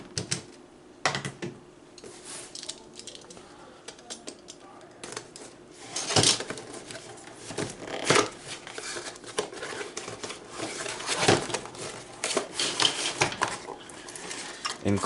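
An Intel i3 12100F CPU box is opened close by, with irregular crinkles, plastic snaps, taps and rustles of packaging in bursts between quieter stretches.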